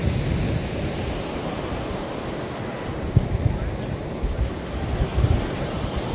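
Ocean waves at Cabo de Rama beach in South Goa, a steady broadband wash of surf mixed with wind buffeting the microphone, continuous and fairly loud with a few stronger surges, no talking.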